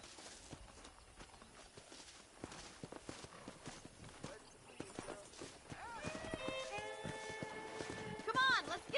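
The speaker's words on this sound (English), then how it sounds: "let's see if we can't wrangle some horses." Horses clip-clopping and galloping in the Red Dead Redemption video game, with steady hoof beats under game music and a whinny near the end, while a voice speaks at times.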